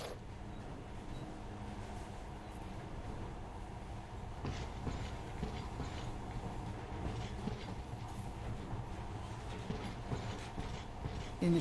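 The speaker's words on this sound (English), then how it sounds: "In the past, trains were ordinary things. But now, this monorail seems magic, doesn't it?" A monorail train in the video game Metro Last Light runs with a steady low rumble and faint rhythmic clatter, a continuous moderate hum with no voices.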